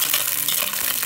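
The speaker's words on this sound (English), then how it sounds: "I'm just gonna saute it for a little bit" Chopped jalapeño and a clove of garlic sizzle in a hot pan, a brief, close, steady hiss with faint stirring.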